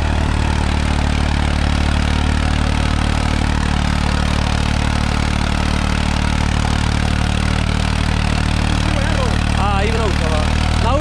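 A Farmtrac 60 tractor engine idles in a steady, loud, low rumble that holds without a break, with faint voices underneath near the end.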